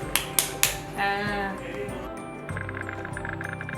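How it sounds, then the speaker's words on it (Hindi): Three sharp hand claps ring out in quick succession, then a bright chiming toy tone and a voice follow in a room. "ताली कैसे बजाते हैं?"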